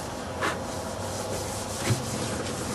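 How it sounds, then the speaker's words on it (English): A green scrubby pad polishes wax on a snowboard base, giving a steady soft rubbing hiss that runs throughout at close range, with a couple of slightly firmer strokes. "You can get 5 or 10 good wax jobs out of one of these green scrubby pads."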